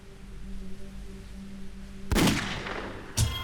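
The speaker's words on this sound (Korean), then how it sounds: "프랑스 오베르쉬르 우아지의 들판에 한 발의 총성이 울려" A gunshot sound effect in a dramatized reenactment of a shooting in a field at Auvers-sur-Oise, France, in 1890: a sharp, loud crack with a short echoing tail over a quiet hum, then a second brief bang.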